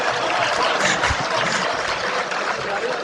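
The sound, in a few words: audience applause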